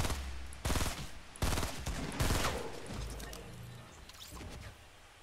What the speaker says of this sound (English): I'm not sure if he was shooting at anything though.